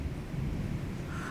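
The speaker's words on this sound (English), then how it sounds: "I want to hear see a massive lightning strike and hear a big boom." Thunder rumbles from an extreme thunderstorm outside, a continuous loud low roll with rain hissing behind it and no voices.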